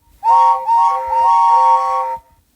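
Several high steam engine whistle tones sound together in one long blast of about two seconds, loud and clear with a brief dip partway through.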